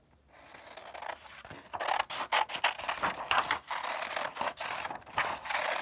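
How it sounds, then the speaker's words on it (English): Scissors cut a penguin body shape out of paper, a run of irregular crisp snips and rustling paper scrapes at close range, with short pauses between cuts. "So I'm going to take my scissors and cut that out."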